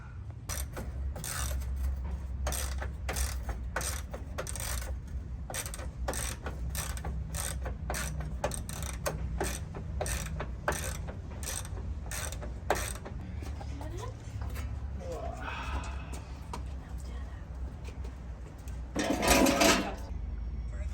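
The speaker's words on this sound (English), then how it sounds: "Now it's just removing all these bolts, and then we'll take this metal piece off" A ratchet works bolts out of a Toyota Tacoma rear bumper in quick bursts of clicking, with softer rummaging between them and a louder rasp near the end; someone speaks faintly at times.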